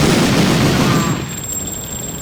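Dense bursts of gunfire from the Medal of Honor remake video game rattle loudly at the start, then fade into a quieter ambient hum.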